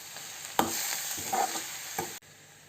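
Chaya mansa leaves frying in a pan with a few scraping stirs, a utensil knocking the pan three times before the sound cuts off abruptly.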